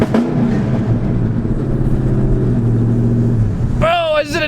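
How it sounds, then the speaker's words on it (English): A cammed Ford Mustang with straight-pipe axle dumps idles roughly on a two-step launch limiter, a loud choppy burbling drone that ends in a sharp rising rev, with someone talking over it. "Alright man, we're gonna give it a little two-step right now."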